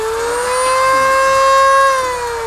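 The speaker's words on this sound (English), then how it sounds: "We'll try to use our sanding tool with the rotary machine" A Black and Decker RT18KA variable-speed rotary tool, rated to 35,000 RPM and fitted with a sandpaper drum, runs with a loud, pure, high-pitched whine. Its pitch and volume swell slightly, then ease back down near the end.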